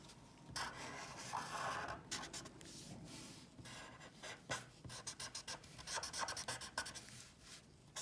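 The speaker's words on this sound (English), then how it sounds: "I like that scratchy black marker" A scratchy black marker drawing on paper, close and quiet, with bursts of rough scribbling strokes that speed into quick rhythmic back-and-forth hatching toward the end.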